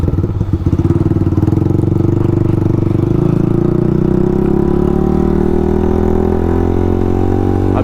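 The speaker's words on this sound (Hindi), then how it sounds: "तकरीबन दूसरे गियर में मैं बाइक को चला रहा हूँ" A motorcycle rides along at around 30 to 40 km/h in second gear through a traffic jam on a road in Malaysia, its engine droning loud and steady up close. The pitch rises gradually, with no voices over it.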